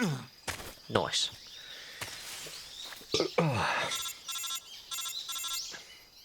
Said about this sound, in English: Answer the phone, damn it.